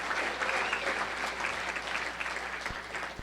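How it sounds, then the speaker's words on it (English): An audience at the 2016 USBC bowling Hall of Fame induction ceremony applauds the inductees, a full, sustained roar of clapping from a large crowd heard steadily throughout. "how about one more round of applause for all of our inductees in the USBC Hall of Fame class of"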